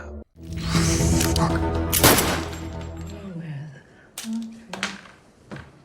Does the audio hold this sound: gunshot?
yes